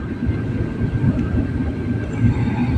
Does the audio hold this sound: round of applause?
no